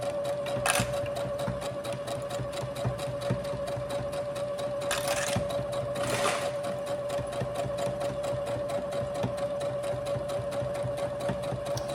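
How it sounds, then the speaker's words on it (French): A sewing machine runs continuously at close range, its fast even stitching whir holding steady for the whole stretch as it sews short forward and reverse stitches to strengthen a seam, with a few brief rustles along the way. "Je fais des petits points arrière et des petits points avant pour solidifier ma couture."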